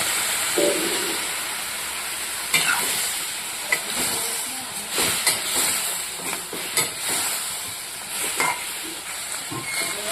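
Vegetables tipped into a hot pan alongside fried lentil fritters (dal bora) sizzle steadily, with a continuous bright hiss broken by scraping and stirring knocks, close and fairly loud, no talking.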